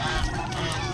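Three-month-old young turkeys call in a dense, continuous flock chorus of honking, gobbling-like cries, close and steady throughout.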